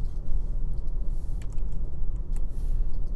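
Computer keys are pressed and a mouse clicks on a desktop machine, a few scattered light taps over a low room hum, close and fairly quiet, with no talking.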